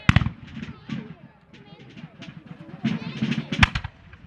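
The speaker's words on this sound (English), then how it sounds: "you can see the cannons taking some heavy toll on that block of blue I mentioned earlier" Cannon fire from a video game battle at Fort George, with sharp booming reports scattered among crackling gunfire, mostly under someone talking.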